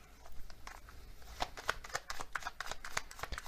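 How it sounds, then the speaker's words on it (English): Oracle cards being shuffled by hand, a quick run of soft riffling flicks and papery slaps in a quiet room, close and fairly faint. "So I'm going to get some more oracle cards here."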